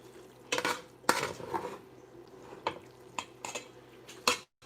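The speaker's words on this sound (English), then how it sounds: "And then I'm just going to start stirring it in." A spoon clanks and scrapes against a pot while chicken spaghetti is stirred, giving several sharp, irregular metallic knocks over a quieter background.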